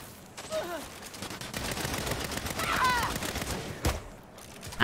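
Rapid bursts of gunfire from the Saints Row video game rattle continuously, with dense overlapping shots, a few louder cracks and faint voices underneath.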